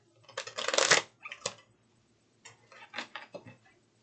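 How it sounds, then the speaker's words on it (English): Tarot cards are shuffled close by in two short bursts of crisp riffling and flicking, separated by a brief pause of near silence. "Okay, let's shuffle."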